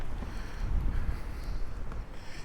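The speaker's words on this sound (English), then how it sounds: "but it is definitely windy." Strong gusty wind buffets the microphone at a yacht club during coastal flooding in Ocean City, Maryland, a close, continuous rumbling blow with no speech.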